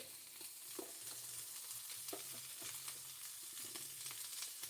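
Fried rice sizzles on a flat top grill, a steady frying hiss broken by soft scraping and stirring strokes of a spatula, close and fairly quiet.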